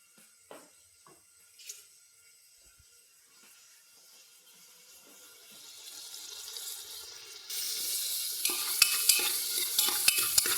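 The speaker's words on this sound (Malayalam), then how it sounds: "ഒന്ന് ഇളക്കി കൊടുക്കാം" Batter for cooker appam is stirred in a pot with coconut oil and ghee, quiet scattered clinks and scrapes at first, then a louder, denser sizzle and stirring swell toward the end, with no talking.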